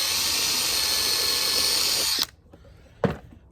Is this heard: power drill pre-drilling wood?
yes